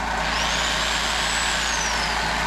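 An air compressor runs steadily and loudly close by, a dense constant mechanical drone with a faint whine rising and falling above it, and no voices.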